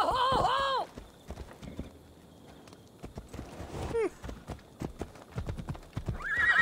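Horse hooves clip-clopping with a loud neigh at the start and another whinny near the end, from the video game Assassin's Creed Odyssey, with steady hoofbeats in between.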